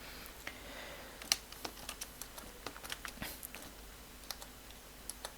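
Python loop code is typed on a computer keyboard in quick, irregular runs of soft, close key clicks over a faint background hum, with no talk.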